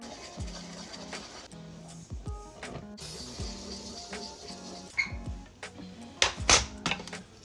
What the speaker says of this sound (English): Now I'm gonna start incorporating my dry ingredients into my wet, working in batches.